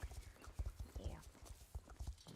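Horse hooves clip-clop in the video game Star Stable, an even, fairly quick trotting rhythm, quiet and unbroken.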